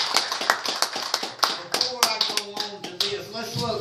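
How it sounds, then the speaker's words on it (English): Congregation clapping at a Sunday night church service: sharp, distinct hand claps in an irregular rhythm, fairly close, with voices and some tonal sound underneath. "Give the Lord a big hand clap"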